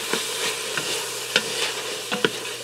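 A spoon stirring drained black beans and corn inside an Instant Pot Duo Crisp, with several sharp scraping knocks against the pot over a faint steady hum, close up and with no talk.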